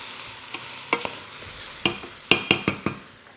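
Beef pieces stir-fried with doubanjiang in a pan, a quiet sizzle broken by sharp spatula scrapes and taps, with a rapid burst of several strikes near the end.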